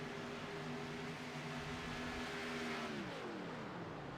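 A race car engine in the iRacing sim at Auto Club, holding a steady harmonic drone before the pitch dips as the driver lifts off, over a constant hiss of background noise.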